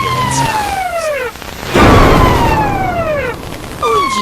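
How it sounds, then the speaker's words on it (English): Ambulance siren effect in a video game: loud descending wails that repeat in sweeping cycles, joined midway by a louder burst of broadband noise. "More ambulance lines."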